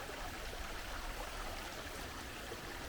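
Constant broad rush of a flowing mountain river, steady and enveloping with no pauses or voices.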